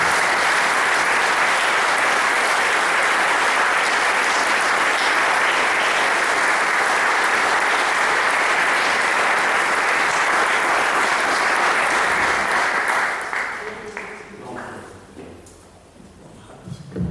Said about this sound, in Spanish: Les pido un aplauso para esas personas.